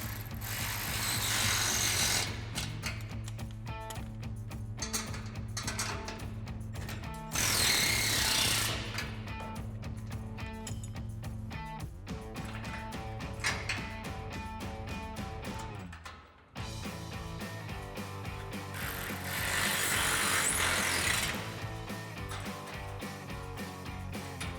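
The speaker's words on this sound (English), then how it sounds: "grab our ratchet and 5mm Allen, and 13mm wrench, and tighten them down" Ratchet tightening bolts on a bed rack for a 2014-2024 RAM 2500 truck, rapid continuous clicking pawl strokes in repeated runs, loud and close, with brief pauses between bursts.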